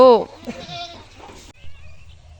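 Goats on a small farm, grazed on a lead beside rice fields, give a loud close bleat at the start, followed by people talking and a fainter bleat under the voices.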